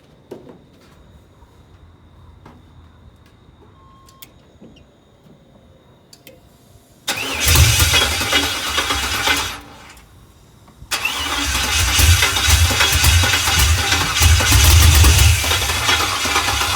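Chevrolet C10 truck engine cranking and firing up, quiet background for several seconds, then a loud roaring start, a brief drop, and a second sustained rumbling run close by.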